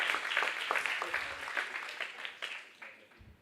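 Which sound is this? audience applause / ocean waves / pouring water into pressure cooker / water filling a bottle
audience applause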